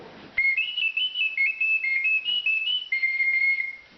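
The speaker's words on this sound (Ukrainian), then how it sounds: "заграти якусь мелодію на цих чудових дудочках свищиках" A small handmade pottery clay whistle blown in a steady run of short, shrill notes, wavering between two pitches, close and loud with no other sound.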